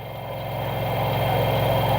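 An LG washing machine spins its drum at maximum RPM, giving a steady, loud mechanical hum and whir with a low vibrating drone that slowly rises in intensity, with no voices.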